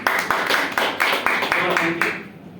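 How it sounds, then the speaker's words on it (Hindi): A class claps for its teacher in a series of loud, rhythmic group claps, about eight evenly spaced beats that fade out at the end. "आज के क्लास संचालक मनोज सर के लिए एक जोरदार ताली"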